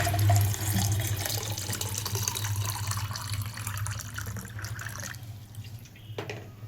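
Hot water pours out of a vessel in a steady, close splashing stream that runs for several seconds before thinning and fading near the end, with no speech.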